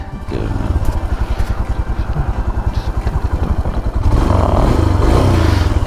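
A motorcycle sets off on a Himalayan mountain road in Uttarakhand, its engine chugging in a steady close rhythm, then opening up louder and rougher after about four seconds as the ride gets going.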